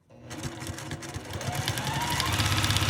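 A sewing machine stitching a quilted scrappy mug rug, its rapid needle hum starting up and steadily speeding into a fast, continuous close whir, with no talking.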